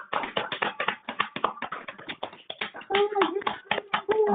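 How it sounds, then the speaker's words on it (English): An audience at an IEEE Region 8 committee meeting gives a round of applause, a quick run of sharp, close claps, with a voice speaking over the last part. "join me in a round of applause for Anna and her team"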